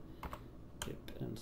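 A few separate clicks from a computer keyboard, a handful of keystrokes close by, with faint voice sounds in between.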